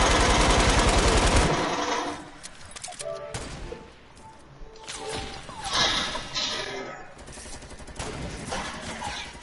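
In Fortnite, a minigun fires a loud, rapid burst of continuous shots that stops abruptly after about a second and a half, followed by scattered game noises and voices talking.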